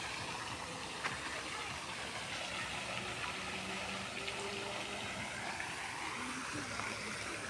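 Cool-weather cafe with trees around a water fountain, the falling water making a steady, unbroken rush that fills the whole stretch at an even level.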